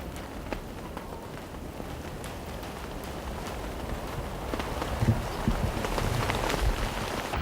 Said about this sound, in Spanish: Lluvia graneada sobre la tierra seca, sobre las lavas volcánicas.